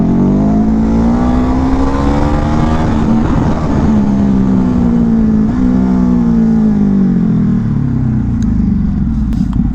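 A Ducati Hypermotard motorcycle engine revs hard in second gear, loud and close, its steady roar rising and falling in pitch for about ten seconds with no break.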